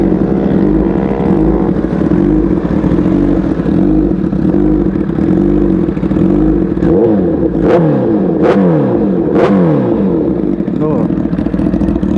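A Honda CBR1000RR superbike engine runs loud and close with a deep steady rumble, then gives several quick throttle blips toward the end while someone talks over it.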